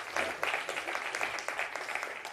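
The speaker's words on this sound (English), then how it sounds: "Please give them another round of applause again." Audience applause after thank-yous at a talk, an even patter of many hands clapping, moderately near and continuous for a couple of seconds without speech.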